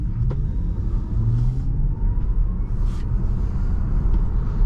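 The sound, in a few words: 2023 Tesla Model Y full acceleration from a stop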